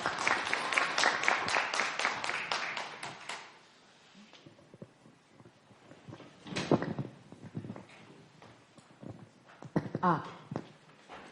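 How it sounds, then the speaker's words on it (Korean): An audience at a Korean public discussion forum claps to welcome a speaker, a dense round of many hands lasting about four seconds. It fades into a quiet room with footsteps, shuffling and brief knocks as the speaker arrives. "힘찬 박수로 차성미님 모시겠습니다"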